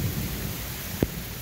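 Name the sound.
rain falling under trees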